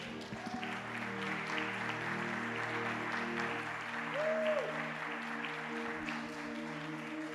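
A church congregation applauds steadily through a sermon break while sustained keyboard chords play underneath, with the clapping holding an even level for several seconds.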